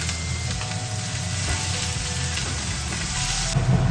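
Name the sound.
sautéing spices in a pan for opor ayam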